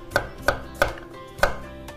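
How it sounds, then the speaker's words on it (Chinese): Five crisp, evenly spaced knife chops close up as a halved, seeded small cucumber is diced on a cutting board, each stroke a sharp thud. "切成丁状"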